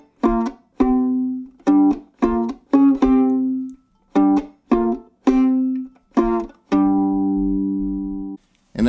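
Violin double stops plucked pizzicato, a series of short two-note plucks in uneven rhythm that ring briefly and then decay, ending on one longer sustained ringing chord, close and clear with no talking.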